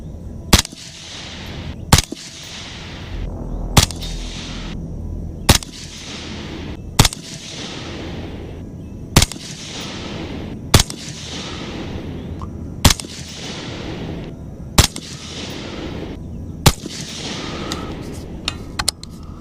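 A precision gas-operated rifle fires ten rounds of 55-grain PMC X-Tech ammunition, each shot a loud sharp crack spaced about two seconds apart, with a steady noisy outdoor background between reports.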